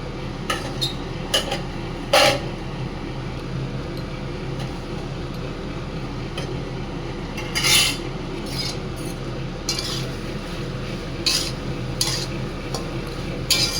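Prawn and taro curry being stirred in a pot: intermittent scraping strokes of a spoon against the pot over a steady low background, with brief louder scrapes now and then.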